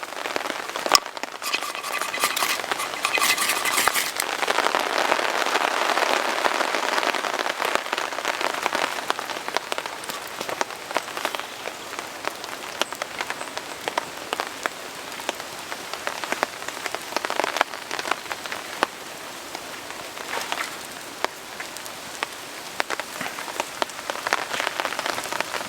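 Wind and rain beat steadily on a camp tarp, a dense, close hiss of drops that swells loudest early on and continues unbroken throughout, with no talking.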